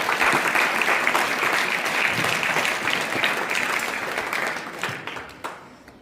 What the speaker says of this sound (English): Welcome with a great round of applause.